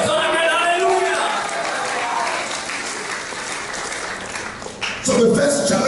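A church congregation erupts in loud, sustained shouting and applause-like cheering that rolls on for several seconds, broad and roomy, before a voice rises at the end.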